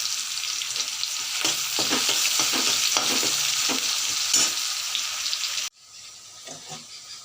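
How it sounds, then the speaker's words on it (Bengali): Onions and a bay leaf sizzling and frying in hot oil for a Bengali fish-head muri ghonto, a steady loud crackle with stirring scrapes, cut short by a quieter sizzle. "আমার পেঁয়াজ ভাজা হয়ে গেছে।"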